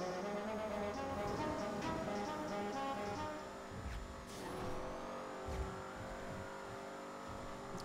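Engine roar of a car driven fast through corners in GTA V Online, loud and continuous with shifting revs and brief tire squeal, no talk over it.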